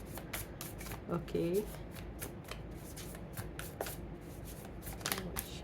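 Tarot cards being shuffled by hand in a quiet room, a steady run of crisp riffling flicks and slaps, with a brief spoken word in Hindi partway through.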